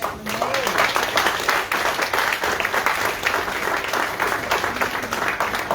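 A church congregation at a Portuguese-language communion service claps loudly and continuously, with voices and cheers rising over the close, dense rattle of hands.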